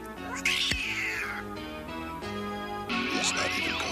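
A cartoon cat from an Inspector Gadget episode gives two drawn-out, wailing meows, one early and one near the end, rising over steady background music.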